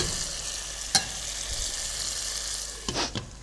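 Green chilies fry in a pan with a steady bright sizzle, broken by a couple of sharp scraping clicks as the spoon stirs them, close up and with no voices.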